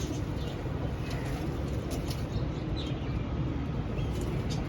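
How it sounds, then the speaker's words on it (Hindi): Soft pigeon cooing over a steady low background hum, fairly faint and continuous with no talking. "ये भी बड़े पुराने कबूतर हैं"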